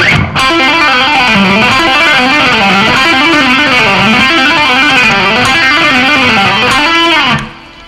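Played at full speed, a distorted rock electric guitar lick rolls out rapid hammer-ons and pull-offs in a fluid, continuous stream of notes, loud and sustained until it stops abruptly.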